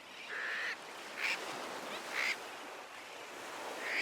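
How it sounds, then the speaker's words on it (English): Several nasal, honking sooty tern calls ring out over a steady wash of surf, spaced a second or so apart, moderately distant. "Next, I need to record sooty tern sounds for the birds back at the center."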